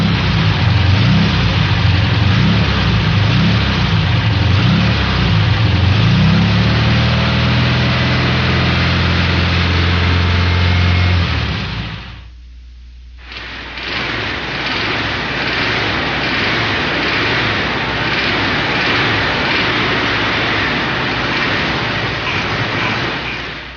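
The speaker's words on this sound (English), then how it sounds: "Here goes a normal engine, then an engine with upside down piston." A Volkswagen engine runs steadily, first normally and then after an overhaul with the pistons installed upside down, a loud continuous rumble and clatter. A brief gap separates the two recordings.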